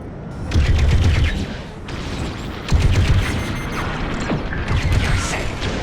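Rapid blaster fire from starfighter combat in Star Wars Squadrons, loud dense bursts of shots and impacts repeating in waves over a steady roaring low rumble, with no talk.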